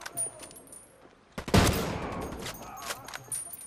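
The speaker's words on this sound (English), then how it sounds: "I think this is an anti-material rifle." In the video game Ghost Recon Wildlands, an anti-materiel rifle fires one loud, heavy shot that booms and echoes away, preceded by fainter scattered bangs.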